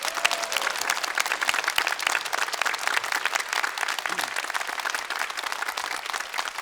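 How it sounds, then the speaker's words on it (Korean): A lecture audience bursts into applause: loud, dense clapping from a large crowd, sustained and even across several seconds, with no speech over it. "박수 한번 주세요"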